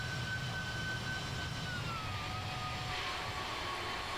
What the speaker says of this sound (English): I don't see why the engines are revving up and down like that if I'm holding it out full